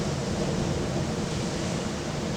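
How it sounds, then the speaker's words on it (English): Ocean surf rolls onto the shore at Belmar, New Jersey, on a calm, nearly windless early morning before a hurricane, a steady broadband wash with no distinct breaks, no talking. "You can hear the ocean."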